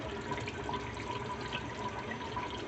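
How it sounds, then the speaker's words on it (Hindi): Yogurt goes into a pan of green chicken karahi on the stove, giving a steady moderate sizzle and bubbling hiss with no talk. "अब मैं इसमें डाल रही हूँ दही"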